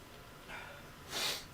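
A single short sneeze, fairly quiet and close, preceded by a faint breathy intake, with no talking over it.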